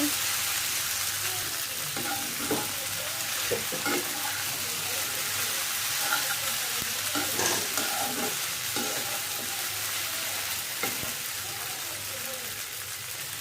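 Food being stirred and turned over in a frying pan, with a steady sizzle throughout and repeated soft scraping strokes of a spatula scattered across it.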